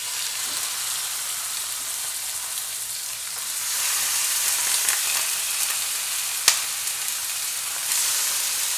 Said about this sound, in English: We're going to sear all the beef cheeks.